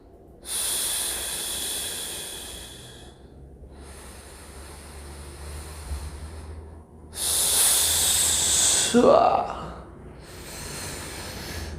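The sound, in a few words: breathing exercise, deep breaths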